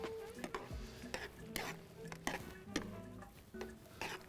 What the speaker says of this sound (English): Take it off the fire, keep stirring.